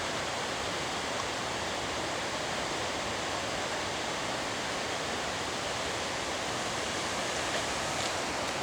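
A broad, constant roar of the Alakananda river flowing at Nandprayag, close and loud, a dense, unbroken hiss of rushing water with no voices or other sounds.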